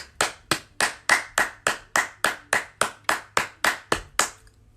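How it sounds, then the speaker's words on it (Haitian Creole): Steady rhythmic clapping close by, about fourteen sharp, evenly spaced claps in a regular beat, cheering on the youth. "Bat bravo pour la jeunesse"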